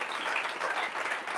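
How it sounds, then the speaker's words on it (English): A crowd's round of applause fills the room in a steady, dense wash of clapping, loud and continuous without pause. "a huge round of applause for creating this opportunity for us"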